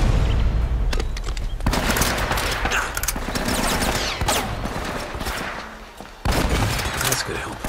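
Mounted machine gun fires in sustained rapid bursts in the Uncharted game, loud and close, with shouting voices and battle noise around, a brief pause near the end before firing resumes.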